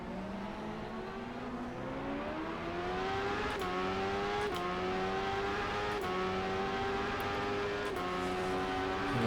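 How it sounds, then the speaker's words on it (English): A prototype race car in rFactor 2 at Suzuka sweeps past a Ferrari, its engine whining steadily higher as it accelerates, loud and close, with a few sharp gear-change clicks punctuating the rising drone. "He goes by the Ferrari."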